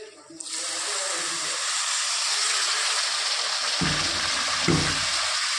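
Water is poured into a pan of frying spice masala while cooking a thin hilsa fish curry with potato and aubergine, a steady hiss and sizzle that begins abruptly and runs continuously, with brief lower bursts near the end.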